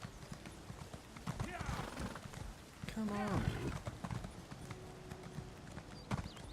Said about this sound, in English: Keep riding, stupid horse.